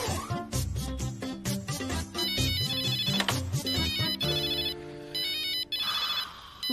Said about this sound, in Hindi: बेगम का फोन आ गया।